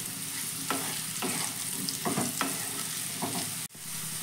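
A spatula scrapes and flips frying potatoes in a hot pan for ghugni, with several distinct scraping strokes over a constant oily hiss, ending with a brief sharp knock and a short dip in sound.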